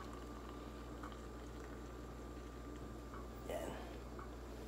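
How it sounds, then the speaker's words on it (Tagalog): Water boiling in a pot on a stove for breakfast, a steady dense bubbling hiss throughout at moderate level, with a brief clink near the end. "Kumulo na."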